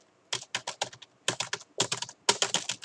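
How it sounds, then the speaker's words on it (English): Rapid bursts of computer keyboard typing, dense clusters of clicks in several quick runs separated by brief pauses, close and fairly loud with no talk. "you're literally spamming the keyboard."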